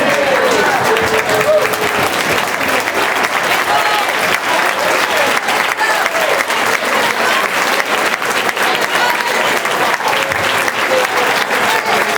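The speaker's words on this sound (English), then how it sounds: "let's stand up and give us all a round of applause" Banquet audience applauding a university marching band at its awards event, sustained dense clapping throughout, loud and close, with a few voices mixed in.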